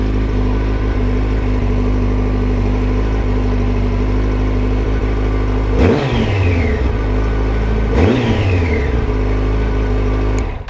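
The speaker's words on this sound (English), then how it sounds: "And there we go, bike started first time." A motorcycle engine runs loud and close at a steady idle, with two brief throttle blips that rise and fall in pitch a couple of seconds apart before it settles back to idling.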